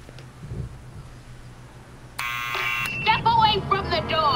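Electronic door buzzer in the Back to the Future video game, a harsh sustained buzz lasting under a second that breaks in abruptly, followed by a voice talking.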